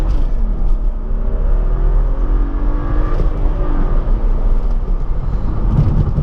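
A BMW F30 335i with the N55 engine launches and accelerates hard, a loud, deep engine rumble and rising drone close by that holds steady, with no talking.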